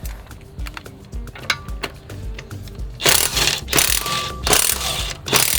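Ratchet wrench loosening the lug bolts on a BMW G80 M3 wheel, rapid clicking bursts at first, then louder broadband spinning rattles near the mic in several pulses.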